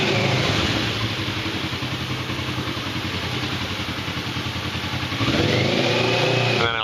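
A motorcycle engine thrums loudly in an enclosed scooter parking lot, a steady pulsing idle that echoes off the walls before the throttle is blipped and the pitch climbs sharply near the end.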